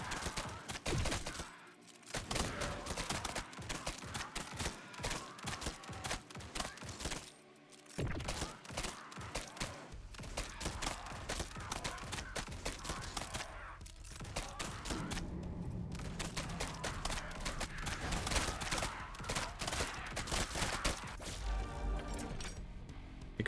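Rapid gunfire rattles through a roguelike shooter game, dense bursts of shots and impacts over a busy mix of effects, nearly continuous with a few short gaps.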